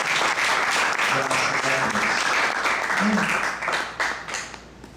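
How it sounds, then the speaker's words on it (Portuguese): Loud, sustained applause from a large church audience at a pastor's talk, steady for several seconds before tapering off toward the end. "Você pode desocupar a sua mão e aplaudir ao Senhor um forte aplauso"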